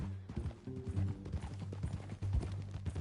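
Horse hooves clip-clop steadily in Red Dead Redemption 2, a close, even rhythmic trot running through the whole short stretch with low tonal game sound beneath.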